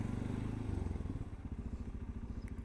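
A motorcycle idles close by with a steady low, throbbing engine pulse and a faint clack as it is shifted into gear, the engine thumping on evenly afterward.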